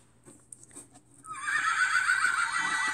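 Electronic unicorn neigh from the Don't Tickle the Unicorn children's sound book, a bright, fairly loud whinny that starts about a second in and holds to the end after a few faint handling clicks.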